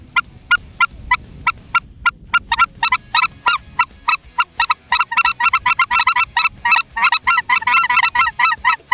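Several hunters blow goose calls together, imitating feeding clucks for goose hunting on an open field in Leningrad Oblast. Loud, crisp honking clucks start spaced out, then overlap and quicken into a dense chattering flock sound.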